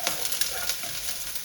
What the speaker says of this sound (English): I just give them a good stir around in that oil, and I just leave them be to char up a bit